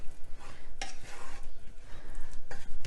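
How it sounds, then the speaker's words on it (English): A spoon stirs a sauce for salmon and broccoli pasta in a pan, giving soft scraping and swishing strokes with a few brighter clinks against the pan, steady and close for a few seconds. "So I'm just going to stir that in."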